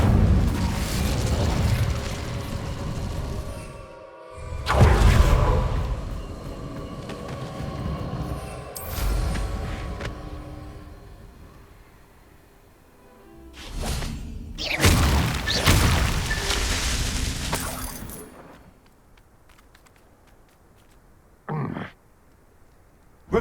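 In Hogwarts Legacy, the Incendio fire spell is cast repeatedly, giving several loud whooshing, crackling bursts with rumbling booms, separated by quieter gaps and ending with a brief sharp effect.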